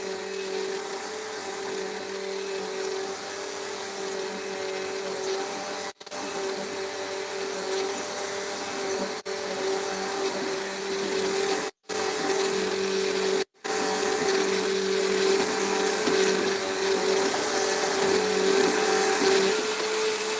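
A vacuum cleaner runs with a steady, loud motor whine and airy roar that barely changes, broken by a few brief cutoffs, with no voices over it.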